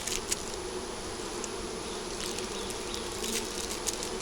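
Bees drone in a dense, steady buzz around an opened hive, close and continuous, with a few faint ticks of movement.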